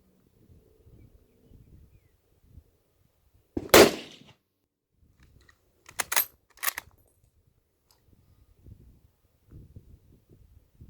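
A Mauser or Arisaka rifle fired at a target on a range, one sharp loud report followed a couple of seconds later by two shorter cracks, with quiet handling noise and faint talk between.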